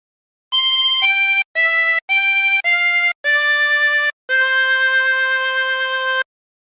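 A 20-hole tremolo harmonica plays a Silent Night phrase, seven clear reedy notes with wavering tremolo, the last held longest, loud and close with no voices.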